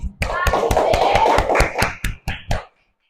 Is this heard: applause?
yes